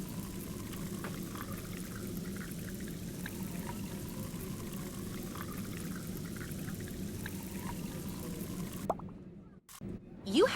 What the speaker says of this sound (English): Drag the lime soda pitcher to the dispenser. When the pitcher is filled, take it out and use it as needed.